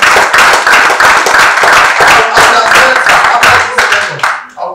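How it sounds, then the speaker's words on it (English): Loud, close clapping from an audience at an event for a Nigerian High Commissioner's visit, with rapid irregular claps from a modest crowd that fade out quickly at the end. "Please, a round of applause for him again."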